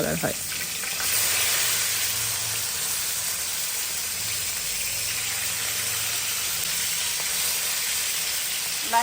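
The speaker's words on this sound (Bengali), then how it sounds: "গরম তেলে ছেড়ে দিচ্ছি একটা একটা করে ইলিশ মাছ" Hilsa fish pieces fry in hot oil with a loud, continuous hissing sizzle that swells just after the start and holds steady to the end.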